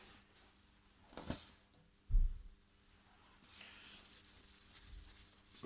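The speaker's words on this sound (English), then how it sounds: "Rub it into the grains" Soft rubbing and sanding-like friction as polish is rubbed with paper towel into turning wood on a lathe, with a couple of brief thumps and a faint high whine from the lathe.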